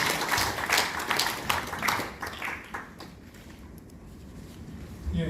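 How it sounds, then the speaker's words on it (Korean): Audience applause at a history lecture on colonial-era views in Korean history textbooks, a burst of clapping that is strong at first and then thins out and fades toward quiet. "박수 한번 주세요"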